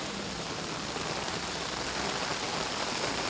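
Heavy monsoon rain pours down in Vapi Bhilad, a dense, even hiss of drops on surfaces and standing water that stays loud and unbroken throughout.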